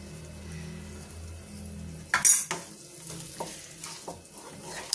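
Fenugreek seeds dry-roasting in a pan for winter methi laddoos, stirred with a scraping utensil: soft continuous rustling with a few sharper scrapes and clatters, close and moderately loud, no talking.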